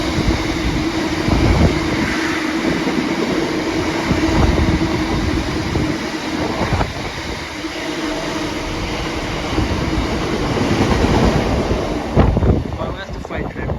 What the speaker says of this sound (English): Well, that's the freight train from Boston to Tunstead.